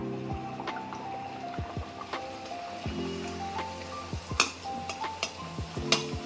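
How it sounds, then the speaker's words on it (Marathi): Spinach puri deep-fry in hot oil in a kadai over a medium flame, a close, busy crackle and sizzle with frequent pops and bubbling bursts and no talk. "आता एक एक पुरी आता आपण चांगली त्याला तळून घेऊया।"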